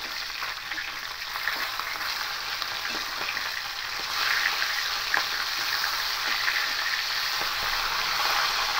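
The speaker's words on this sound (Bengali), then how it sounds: "এভাবে উল্টে পাল্টে মাছগুলোকে খুব ভালো করে ভেজে নিতে হবে।" Fish pieces sizzle in hot oil while being turned and flipped in the pan, a continuous close crackle with occasional scraping and stirring knocks, no talk.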